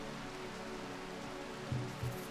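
Rain falling in the video game RimWorld, a faint steady hiss of rainfall on a surface, quiet and continuous, with two brief low thumps near the end.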